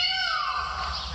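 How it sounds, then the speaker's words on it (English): A blue peacock's loud, drawn-out wailing call with a rising then falling pitch, heard alone without any talking. "Blue peacocks sound something like this,"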